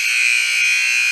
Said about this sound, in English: Thank goodness that buzzer came.